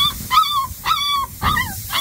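A young puppy rescued after falling into a water channel whimpers and yips in three close, high-pitched cries, loud and near, with no talking.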